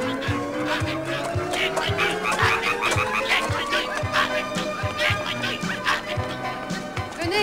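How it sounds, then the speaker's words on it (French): Frogs croak in a rapid, rhythmic chorus that stays loud and dense throughout, with many calls overlapping alongside music and voices in a French animated series. "Oh, les grenouilles, attention à vos cuisses."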